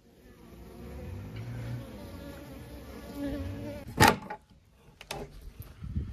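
Bees buzzing around hives at an apiary, a steady close drone with a sharp clack and a few knocks partway through, no talking.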